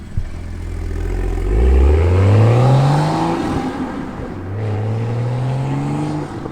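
A Toyota Supra A91 sports car engine with an XFORCE exhaust, valve closed, revs up twice, its exhaust note rising in pitch each time, fairly loud but restrained and close by, with no talking.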